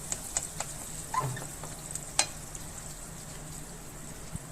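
Onions go into a pan of melted butter with a faint, steady sizzle and a few light stirring scrapes and clinks, quiet and close with no voices.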